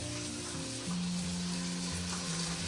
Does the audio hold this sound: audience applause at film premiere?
no